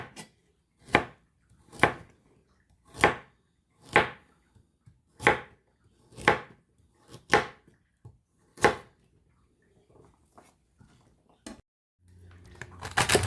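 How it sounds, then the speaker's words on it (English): A knife slices carrots thinly in about nine crisp, evenly spaced chops, close and quiet with nothing else over them, followed by a brief rustle of handling at the end. "You can cut those in half if you'd like, or you can just leave them and just thinly slice them"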